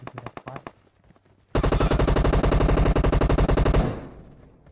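Gunfire in the mobile game PUBG Mobile: a few quick shots, a short pause, then a long loud automatic burst of rapid, evenly spaced rounds that cuts off and fades.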